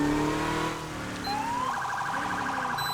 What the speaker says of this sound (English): I am loving this Code 3 microcom siren. It just sounds so good.